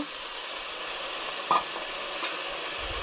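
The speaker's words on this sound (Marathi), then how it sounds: "सगळ्या भाजयो हांगसर एड करूंक जाय आनी ते न्हय मातशें परतून घेवंक जाय" Vegetables and potatoes sautéing in a pan for pav bhaji, a steady soft sizzle with a brief stir scrape partway through, close and alone without talk.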